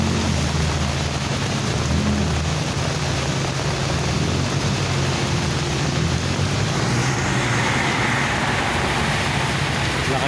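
Heavy rain pours steadily over a Manila street in a dense, continuous hiss, with passing car and traffic noise mixed in and a low rumble underneath throughout.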